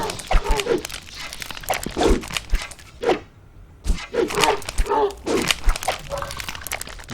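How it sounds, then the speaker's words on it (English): A dog taking a beating in the video game Inquisitor, with repeated dog yelps and whimpers scattered through busy game sounds and brief pauses. "My dog is definitely getting his ass beat."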